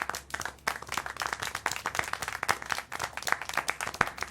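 Brisk clapping from a small group in the video game Syberia: The World Before, a rapid uneven patter of hand claps at steady loudness for a few seconds.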